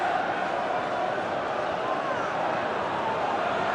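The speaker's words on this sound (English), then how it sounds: "What a crowd as well. Listen to that atmosphere." A steady, dense roar from the stadium crowd at a Sunderland v Burnley Championship football match, continuous and enveloping, with a commentator talking over it.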